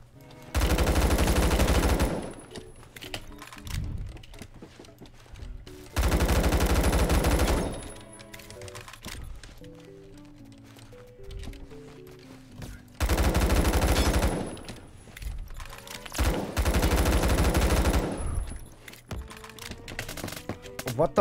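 Gunfire in the online shooter game Phantom Forces comes as four long, loud automatic bursts spaced several seconds apart, with quieter clicks and scattered distant shots filling the gaps.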